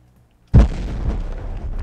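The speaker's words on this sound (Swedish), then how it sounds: "Alltså explosionerna, de är jättehöga" A loud explosion in the video game Gun Monkeys bursts in suddenly with a deep boom, then rumbles on steadily as a dense roar with no voices over it.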